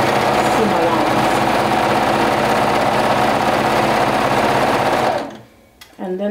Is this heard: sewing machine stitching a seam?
yes